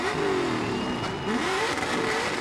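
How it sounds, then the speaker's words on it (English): Drift car doing a standstill burnout at the finish line at Irwindale Speedway in California, with a continuous loud engine roar and rising and falling revs under the noise of an outdoor crowd. "A standstill burnout right there at the finish line."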